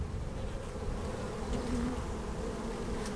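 Honeybees drone steadily around an open hive frame during swarm-control work, a dense continuous buzz close by with no talking.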